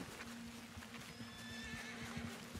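Horse neighing in the Red Dead Redemption 2 video game, a clear whinny over steady clip-clop hooves and ambient game background, with no talking.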